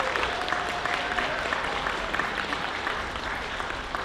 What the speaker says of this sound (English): another round of applause for Aikido at the center and Ishikage Kenpo?